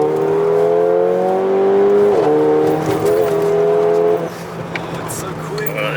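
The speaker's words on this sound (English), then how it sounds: "This downshift sounds so good." Remapped 440bhp Mercedes A45 exhaust on a downshift, heard from inside near the exhaust: a loud engine tone drops and blips in pitch with crackles as revs fall, then fades lower.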